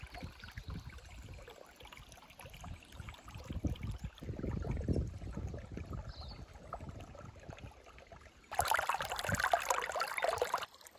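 Clear river water flows through Lerderderg Gorge as a soft, close babble and trickle that runs on throughout, then grows louder and brighter toward the end.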